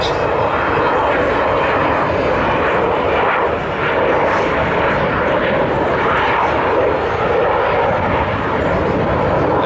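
An Avro Vulcan bomber makes a loud flypast at a Scottish airshow, a continuous heavy jet roar filling the air throughout, with crowd voices mixed in.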